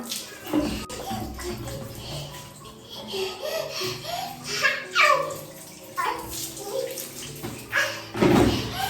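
Water splashing in a home bath as children are bathed, intermittent sloshes and drips close up, with an adult and children talking over it.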